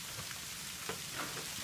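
Hail and frozen rain fall steadily at a mountain trail shelter on the Appalachian Trail, making a dense, even patter with scattered sharper ticks and no talking.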